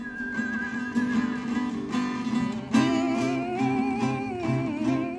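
A clear whistled melody of a song's refrain plays over a soft accompaniment, the tune moving in smooth sustained notes and phrases.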